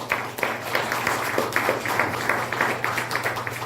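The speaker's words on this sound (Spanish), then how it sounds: "Den ese aplauso al Señor." A church congregation claps together in a steady patter of overlapping hand claps at moderate volume, a low hum running beneath.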